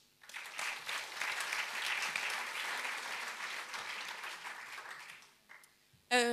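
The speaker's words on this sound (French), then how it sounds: "The Refiners, on l'applaudit." An audience applauds The Refiners as Géraldine Lemeur returns to the stage at the West Web Festival, steady clapping from a crowd that swells and holds for several seconds, then fades out just before a brief loud sound at the very end.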